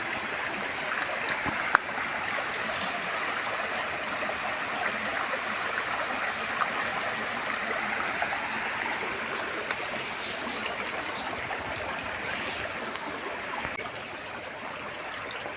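A clean creek in the countryside flows steadily, producing a continuous close rushing and babbling of water with a faint high steady tone above it.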